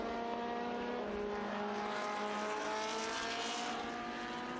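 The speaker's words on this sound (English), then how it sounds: "Mark Davis in McLaren up into 16th place" Historic racing cars, including a McLaren, lapping the Estoril circuit, their engines a steady, fairly distant drone with rising revs and a faint tyre squeal under the wash of sound.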